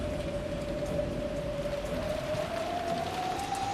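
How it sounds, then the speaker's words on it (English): Steady cold rain in the visual novel game Umineko blows in through a broken window, a constant dense hiss with a sustained tonal whine running beneath it, loud and unbroken throughout. "even though the cold rain is blowing in and tormenting me"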